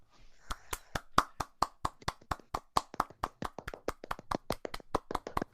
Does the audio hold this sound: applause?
yes